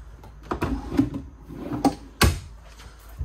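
Drawers in the butcher-block-style kitchen of a 2024 Jayco Eagle 294 RV slide open and shut, a series of close wooden knocks, thuds and scrapes with one sharp bang near the end.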